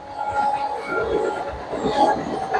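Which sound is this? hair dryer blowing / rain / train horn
train horn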